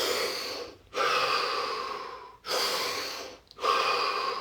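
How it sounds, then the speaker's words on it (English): Three deep breaths, each a long, even rush of air drawn close to the mic, with short silent pauses between them. "Take 3 deep breaths."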